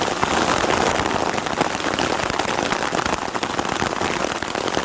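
Hail pelts down during a storm high on a Sierra mountain pass, a dense, steady hiss and patter of countless hits that stays loud and close throughout, with no voices.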